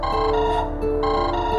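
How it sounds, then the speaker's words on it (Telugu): A mobile phone rings with an incoming call, its electronic ringtone holding steady layered musical tones close and loud for the whole stretch, with no voices over it. "డాలీ ఫోన్ చేస్తున్నాడు సార్."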